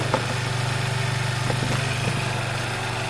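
A Keeway Chinese motorbike engine idles off choke as it warms up, a steady close putter with a fast even pulse, running alone without speech.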